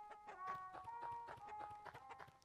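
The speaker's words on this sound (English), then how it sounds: "There's chickens." Chickens clucking in the video game Lisa, a run of short, bright, rhythmic clucks over a faint tonal game background, fairly quiet and alone without talk.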